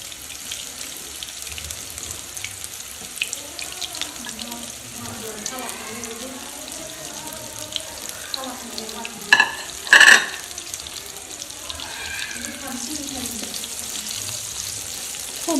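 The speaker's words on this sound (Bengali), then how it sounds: "তেলটা তেতে গেলে ম্যারিনেট করা সয়াবিনটা প্রথমে আমি ভেজে নেব" Marinated soybean chunks frying in hot oil for a Bengali soybean curry: a steady sizzle with stirring and a few sharp clatters near the middle, and a faint voice in the background.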